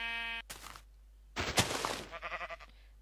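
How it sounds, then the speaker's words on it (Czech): A short bleat-like sheep call in a video game sounds amid sharp noisy bursts and rapid pulsed crackling, close and fairly loud. "slyším bečet"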